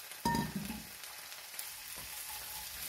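Sliced onions and rinsed snow peas drop into a hot frying pan, setting off a loud burst of sizzling that settles into a steady crackling fry.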